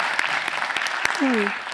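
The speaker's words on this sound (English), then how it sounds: "Yes, round of applause." Applause from an audience at a comic convention panel, a steady patter of clapping that carries through, with a brief voice tone rising near the end.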